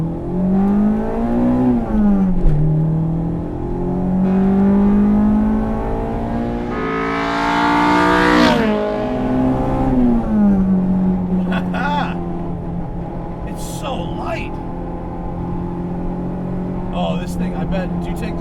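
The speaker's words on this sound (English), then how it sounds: "Has a lightweight flywheel as well. It revs up super fast." A 1998 Acura Integra GSR all-motor engine with a lightweight flywheel revs quickly while climbing uphill, its pitch rising and falling through the gears, with people talking over the engine.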